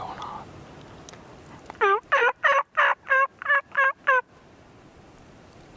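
Wild turkeys gobble in a Pennsylvania spring field, a run of about eight loud, rapid gobbles in one burst over a quiet outdoor background.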